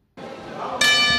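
A boxing ring bell rings loudly during a professional bout, one bright metallic clang that rings on with a sustained tone after the crowd noise.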